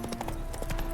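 Hooves of the horse Roach in The Witcher 3 video game, a quick run of clip-clop steps with a steady rhythm, close and moderately loud for about a second.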